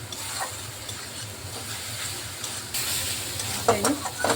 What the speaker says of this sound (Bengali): মশলাটা ভালোভাবে কষিয়ে নিচ্ছি